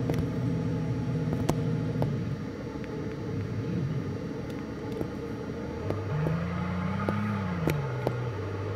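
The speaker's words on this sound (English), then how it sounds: "my new classic car. Sounds aggressive, even more like American muscle car." A video game muscle car's deep, rumbling engine idles and revs, its pitch rising and falling, with occasional sharp clicks over the steady drone.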